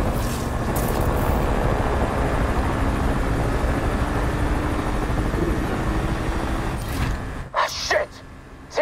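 Police helicopter hovering overhead in the Need for Speed Unbound racing game, a loud, steady rotor drone filling the scene for about seven seconds before cutting out into brief scattered noises.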